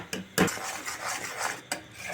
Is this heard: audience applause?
no